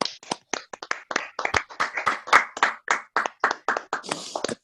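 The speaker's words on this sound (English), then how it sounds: "let's give Toastmaster John Nicodemus a big round of applause." Online participants in a Toastmasters judging workshop clap for the presenter, a sparse series of distinct individual claps in an uneven rhythm, sharp and close as if through separate microphones.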